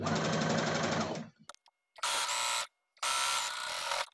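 Sewing machine stitching folded fabric strips for belt loops, a fast continuous mechanical whir that stops, then two shorter bursts of stitching with pauses between, close and clear.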